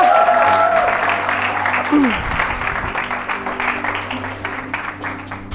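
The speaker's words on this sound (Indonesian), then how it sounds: "Yang masih semangat tepuk tangannya dong semua" Audience applause at a Christian talk event on kingdom investment, a steady wash of many hands clapping that carries through the whole stretch, with a brief voice and tonal hum underneath at the start.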